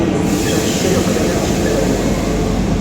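Train on a railway platform, a loud steady rumble of rolling cars with rail noise, continuous and close, with people talking over it.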